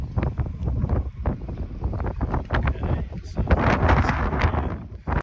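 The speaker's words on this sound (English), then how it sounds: "the wind was already up to 20 knots" Strong wind of about 20 knots buffets a sailboat near Townsville, roaring steadily and gusting louder toward the end with close microphone rumble, while a voice talks intermittently over it.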